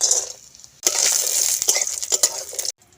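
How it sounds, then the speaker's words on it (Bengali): Lentil dumplings (bori) drop into hot mustard oil in a kadai and fry with a bright, close crackling sizzle, broken by a few stirring scrapes and clinks, then cut off abruptly. "কড়ার মধ্যে সর্ষের তেল দিয়ে দিয়েছি তেলটা গরম হয়ে গেছে এবার আমি ডালের বড়িটাকে তেলের মধ্যে দিয়ে দিচ্ছি"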